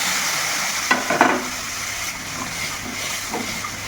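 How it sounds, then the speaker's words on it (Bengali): Cooked lentils poured into a hot frying pan of snake gourd curry give a short burst of sizzling and spattering, then a softer, steady background hiss. "আর এখন এই যে ডালটা একদম করে রেখে দিয়েছিলাম, এটা এখন এর মধ্যে ঢেলে দিলাম"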